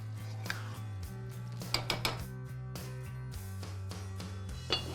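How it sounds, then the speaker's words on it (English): A spoon stirs potatoes and tomatoes in a metal cooking pot, making scattered sharp clinks and scrapes against the pot over a low, steady hum. "Give this a nice stir up. Make sure to coat all these potatoes."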